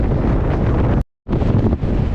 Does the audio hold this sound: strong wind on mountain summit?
yes